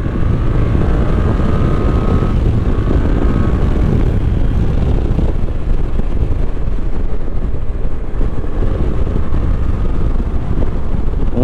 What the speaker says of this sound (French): On a un moteur rageur, mais par contre qui manque d'allonge.